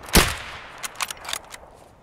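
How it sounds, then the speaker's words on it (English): A single loud gunshot cracks out close by in the tactical shooter Escape From Tarkov, followed by a few softer thuds and clatters as the echo fades. "That gun is so fucking loud."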